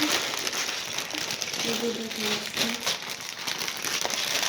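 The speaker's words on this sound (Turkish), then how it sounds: "Paketleri açalım." Plastic packages torn open and handled, with continuous close crinkling and crackling; a person talks over it.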